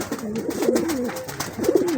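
Domestic pigeons from a matched breeding pair coo in two rolling, throaty phrases, close and clear with no talking.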